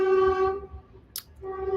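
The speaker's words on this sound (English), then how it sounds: "the train does a really loud horn, and it's always very loud from my apartment" Train horn blaring loud and steady from tracks beside an apartment, a long sustained tone that cuts out briefly and returns, with a short sharp noise in the gap.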